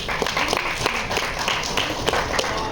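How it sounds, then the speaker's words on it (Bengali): Dense applause from a seated audience at a press conference for a web series, with overlapping hand claps holding a steady, fairly loud level throughout and no voice above it. "একটা জোরে হাততালি সবার জন্য প্লিজ।"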